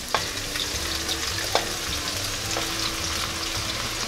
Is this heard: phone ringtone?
no